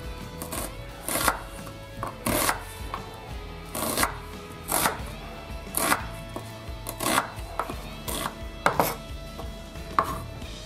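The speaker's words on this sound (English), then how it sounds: "I'm going to cut our onion. Cut in half and then just thin slices." A knife chops through an onion on a cutting board, cut in half and then into thin slices, giving about a dozen sharp, near knocks at an uneven steady rhythm with no talking.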